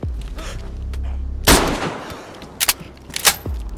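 Gunfire in a zombie survival video game: a low rumble gives way to a loud, close burst of shots, then two more sharp shots in quick succession, with no talking.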